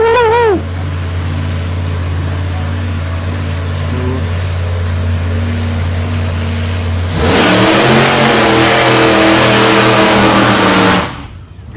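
A Holden VS Commodore race car on a dirt track revs hard and close, a loud steady engine drone building into a roaring full-throttle burst before cutting off abruptly.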